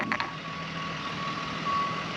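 A tow truck's reversing alarm sounds in a steady series of evenly spaced beeps at moderate distance, with a faint engine rumble underneath and no talking.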